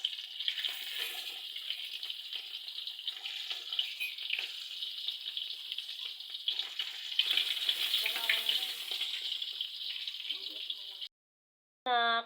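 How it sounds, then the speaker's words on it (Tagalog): Tinapa, a smoked fish, fries in a pan with a continuous bright sizzle and crackle, moderately close, before cutting off abruptly near the end, when a brief distorted burst follows. "Tinapa na naman ang iprito natin"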